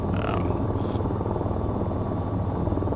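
Steady whirring rotor drone of an AH-94 helicopter in the flight game VTOL VR, a continuous low buzzing hum with a faint high whine over it throughout.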